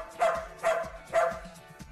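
A dog barks to count out the answer to a sum on a television show, giving three evenly spaced, clear barks close by.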